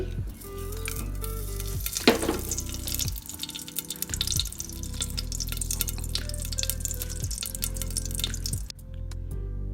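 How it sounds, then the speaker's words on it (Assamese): Bay leaf, cloves, cardamom and cinnamon sizzle in hot ghee inside a pressure cooker on a gas stove, a steady close crackling fry with a brief louder splutter early on and soft stirring clinks, no one speaking. "ঘি গৰম হোৱাত তাত তেজপাত লং ইলাইচি দালচিনি গুটেখিনি দি দিছো"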